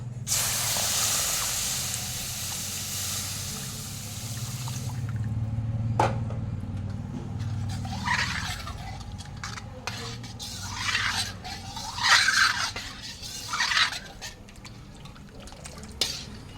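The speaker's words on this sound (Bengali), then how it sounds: "সুজিটা আমার ভাজা ভাজা হয়ে গেছে, এবারে আমি জাল করে রেখেছিলাম দুধ, সেই দুধটা ঢেলে দেব" Milk poured into a pan of fried semolina gives a steady hissing sizzle that fades after a few seconds, followed by softer bubbling, stirring and scraping with a few sharp clicks, fairly close and with no talk.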